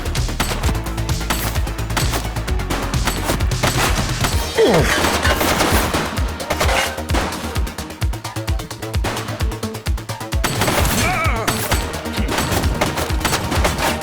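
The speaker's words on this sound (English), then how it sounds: "Shots fired!" Police shootout gunfire in a video game, rapid dense volleys of loud shots, nearly continuous with brief lulls and a fresh intense barrage toward the end, with almost no talk.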